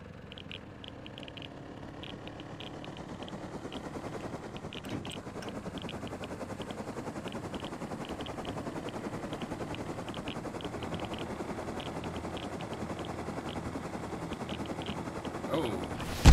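A minicopter flies in the video game Rust, its rotor giving a steady rapid chopping beat that slowly swells in loudness, with a player speaking briefly over it.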